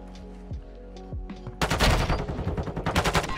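Gunfire in a video game shooter: a few muted shots, then a loud, dense volley of rapid bursts that keeps going to the end, with no talking.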